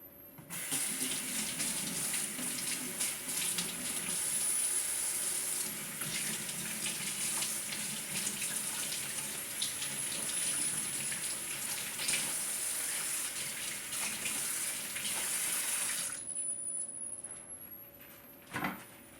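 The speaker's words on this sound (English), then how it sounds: "let me rinse my hands off because I gotta put this in the oven" Water from a kitchen tap runs steadily into a sink for about fifteen seconds while hands are rinsed, a close, continuous splashing hiss that cuts off sharply near the end. A faint clunk follows.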